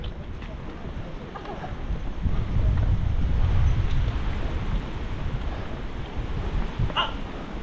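Strong ocean waves at Baler crash and surge with broad roaring noise, swelling louder midway, mixed with wind buffeting the microphone.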